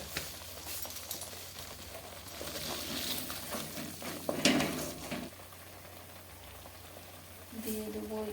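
Coriander, cumin and fennel spice paste bubbling and sizzling in a pan, a steady moderate hiss with a few stirring scrapes, continuous throughout.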